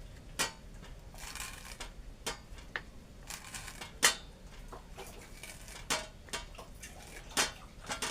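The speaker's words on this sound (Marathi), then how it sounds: "आता तो पाला आपण चिरून घेऊ" Bharangi wild leafy greens chopped with a knife on a board, sharp irregular knocks and taps spaced a fraction of a second to a second apart, fairly quiet with no talking.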